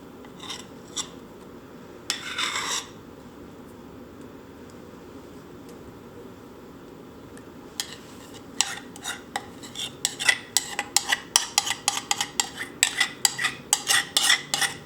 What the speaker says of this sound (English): I'm just gonna give it a gentle stir.